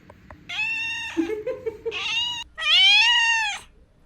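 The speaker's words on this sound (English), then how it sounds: "a very cute cat who decided to keep us company" Cute cat meowing on a rainy morning in Sri Lanka, three drawn-out, high, clear meows with a brief low murmur between the first two, close and loud.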